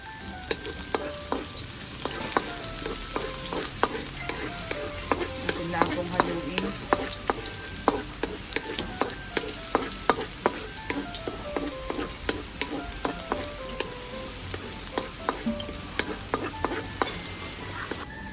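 Onions sautéing in a pan after ginger for chicken with papaya in coconut milk, a continuous close sizzle broken by frequent sharp scraping and clinking of a spatula stirring, with no voices.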